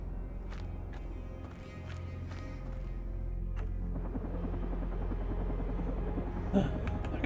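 A helicopter in the video game Carrion, a steady low rotor drone that grows louder and busier midway, with sharp clicks and thumps over it and no talk.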